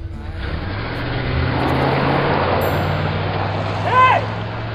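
A car on new tires drives off, its engine rumbling and swelling as it pulls away, with a brief high squeal near the end.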